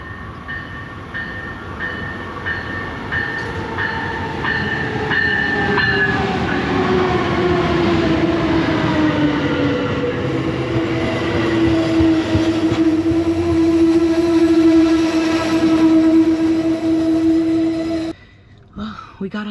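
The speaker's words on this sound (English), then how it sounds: "All right, our train is arriving." An Amtrak passenger train rumbles into a station on a West Coast route, its pitch sliding down as it slows, with steady rail noise and a few faint voices, then it abruptly goes quiet.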